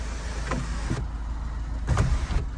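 A 2012 MINI Cooper S electric sunroof closing, heard as a steady low motor whir inside the cabin with brief mechanical clunks near the start and again toward the end, no talking.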